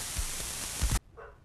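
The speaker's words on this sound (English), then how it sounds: "My dog's barking." A dog in a horror video game gives two short barks over loud static hiss, then the static cuts out abruptly, leaving a faint, muffled sound.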